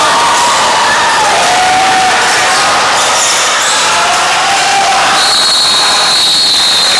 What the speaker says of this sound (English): Both teams are applauded for their effort and their hustle.